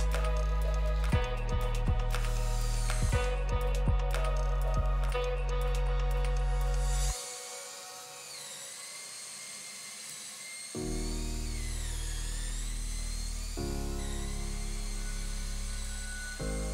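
A high-pitched power drill whines steadily while boring by hand through a wooden wall slat board for a yurt, cutting out briefly midway before starting up again, loud and close.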